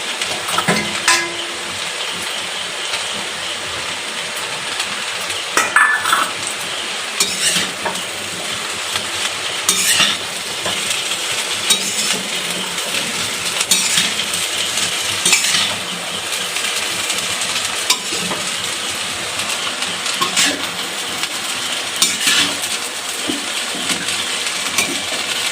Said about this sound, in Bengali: একটু ভেজে নিই। এবার মশলাটা দিয়ে দেবো।